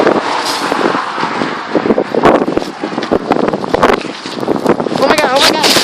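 Very strong, cold, gale-force wind buffeting the microphone in loud, rough gusts, with a person talking excitedly over the roar.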